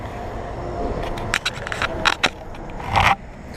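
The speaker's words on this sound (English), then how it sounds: "There is a ton of noise from the cars driving by up here" Cars pass on a nearby road above a small creek, a continuous broad rumble and hiss with a few sharper scrapes and one swelling pass near the end, fairly close and fairly loud with no talk.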